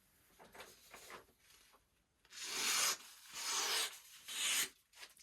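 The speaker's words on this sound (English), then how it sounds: "they're cleanly slicing printer paper, a held sheet of printer paper" A knife blade slicing through a held sheet of printer paper, with three loud, papery swishing strokes close up, preceded by quieter rubbing and rustling.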